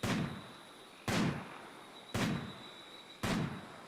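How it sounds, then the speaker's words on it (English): Explosions in the RimWorld video game, four sharp booming blasts spaced about a second apart, each with a quick decaying tail over a steady background hum. "The explosion might actually just kill the rest around them as well, which is good."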